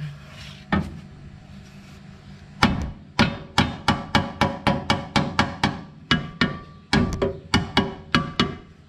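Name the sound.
hammering a car lower control arm in with a mallet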